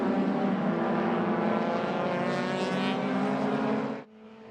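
Race cars, including a green Nissan, roaring past at full throttle on an IPRA NSW racing track: a loud, steady engine drone that holds for about four seconds, then drops off sharply as the cars pull away.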